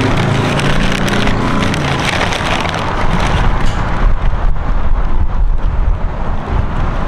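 Strong wind buffets the microphone outdoors, a loud continuous roar with gusty low-end rumble throughout.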